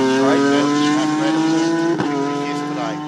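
Race car at The Bend Motorsport Park crossing the finish line under the checkered flag, a loud, steady engine drone with a sustained high harmonic whine that shifts slightly in pitch, with a brief burst near the middle, continuous throughout.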